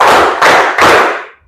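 A group claps hands together in a counted concentration exercise, producing three dense, loud bursts of clapping in quick succession with no talking.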